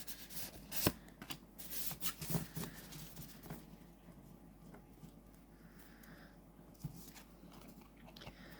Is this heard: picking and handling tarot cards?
yes